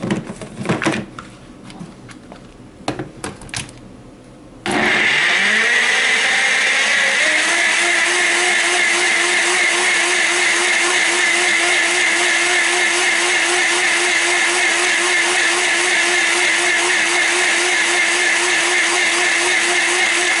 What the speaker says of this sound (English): So let's give our blender a chance.